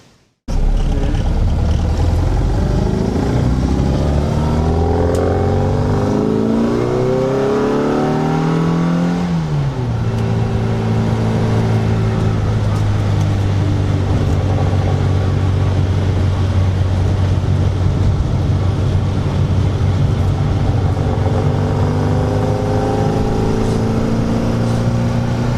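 A Mini Clubman car drives along, its engine note rising through the gears with audible upshifts, then settling into a steady cruising hum with road noise, close and loud throughout.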